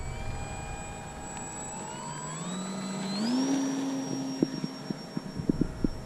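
A model airplane engine on a paved runway spools up, its whining pitch climbing steadily before settling into a higher steady drone, with a run of sharp ticks and clicks near the end.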